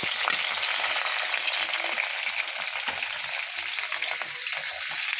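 Urad dal and chillies sizzle steadily in hot oil while cooking poha upma, a continuous close frying hiss with no talking.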